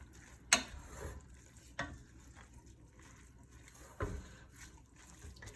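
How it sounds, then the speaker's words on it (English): Grated papaya being stirred together with a vinegar and sugar mixture, giving soft wet sloshing and stirring sounds with a few sharper scrapes, fairly quiet with no voices. "Incorporating that vinegar sugar mixture into the grated papaya by mixing it well."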